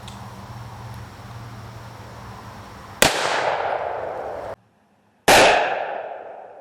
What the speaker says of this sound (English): Got a Model 19 Smith & Wesson firing 125 grain, jacketed soft point Remington